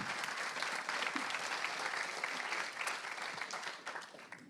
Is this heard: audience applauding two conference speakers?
yes